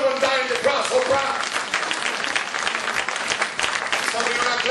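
Audience at a sermon breaking into sustained applause, dense and even across the whole span, loud and close with no talk rising above it.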